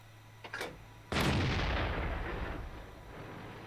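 A tank cannon shot in World of Tanks booms loudly with a long, fading rumble, preceded by a fainter distant shot.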